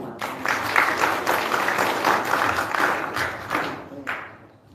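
Enthusiastic applause from a crowd at a medical school graduation and doctors' oath ceremony, a steady wash of clapping for several seconds that tapers off near the end.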